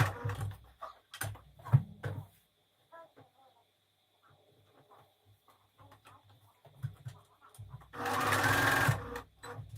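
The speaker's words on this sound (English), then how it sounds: "Now I'm going to go ahead and flat stitch my double hem." A sewing machine flat-stitches a double hem for a home decor project, running in two loud, steady bursts with a quiet pause between them and no talking.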